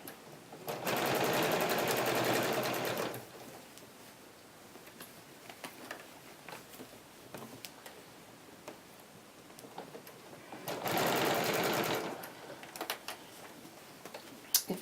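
A Janome sewing machine stitches through thick layers of a fabric nesting basket in two fast, steady runs of rapid needle chatter, separated by a quieter stretch with light clicks and handling.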